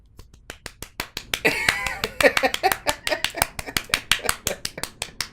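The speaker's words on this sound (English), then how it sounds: "That's not even me clapping." A steady run of sharp, evenly spaced claps, close and bright, with a burst of talk and laughter partway through.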